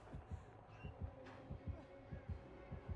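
A thudding heartbeat in Dead by Daylight, low paired thumps repeating about twice per second, close and steady under a faint background hum.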